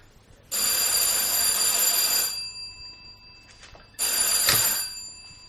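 A telephone bell rings in two loud bursts in a French radio mystery drama, a long ring of about a second and a half, a pause, then a second shorter ring, with no talk over it.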